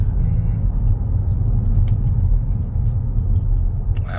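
A car drives along a road during a driving lesson, heard from inside as a steady, loud low rumble of engine and tyre noise, with a few faint clicks and no clear talking.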